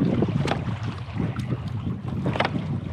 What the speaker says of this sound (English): Back in the canoe.